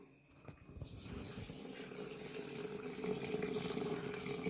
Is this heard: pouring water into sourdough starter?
yes